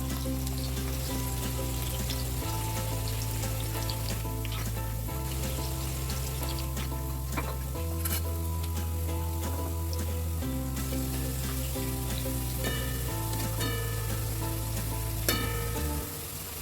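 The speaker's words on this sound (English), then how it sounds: "This should be cooked till it gets brown, golden brown." Marinated cauliflower pieces for crispy gobi manchurian frying in hot oil until golden brown, a loud, steady sizzle and bubbling that runs unbroken from start to finish under a constant low hum, with no voices.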